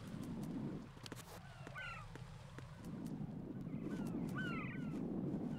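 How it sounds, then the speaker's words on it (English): Birds call in the video game Metal Gear Solid 2, a few short chirping calls around the middle and near the end over a steady rushing ambience, no talk. "I see some birds that probably give away our position if we scare them."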